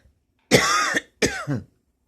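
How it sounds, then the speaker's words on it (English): A man gives two harsh throat-clearing coughs close to the microphone, a longer rasping burst followed by a shorter one, with silence around them. "No, that wasn't a drug cough"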